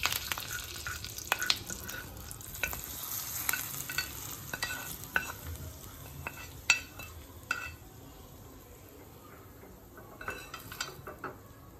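Hot tempering of chillies sputtering and crackling, poured over a raw-mango dal, with many scattered pops and light utensil clicks over a quiet hiss that thins out toward the end.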